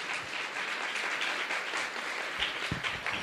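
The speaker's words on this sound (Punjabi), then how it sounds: "ਇੱਕ ਵਾਰ ਜ਼ੋਰਦਾਰ ਤਾੜੀਆਂ ਵਜਾਵਾਂਗੇ ਉਸ ਪਰਮੇਸ਼ਵਰ ਦੇ ਲਈ" A congregation at a church sermon applauds together, a steady dense wash of clapping hands that holds evenly throughout, with no voice over it.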